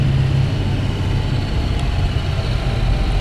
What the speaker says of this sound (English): And you can hear the tranny kind of whine, and we're putting a lot of pressure on it.